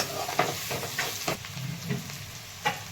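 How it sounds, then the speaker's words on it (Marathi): Brinjal pieces sautéed with turmeric in hot oil, a soft steady sizzle broken by several sharp spatula scrapes and stirs against the pan, close up with no talking. "छान परतून घ्यायचं हळदीमध्ये पण वांग"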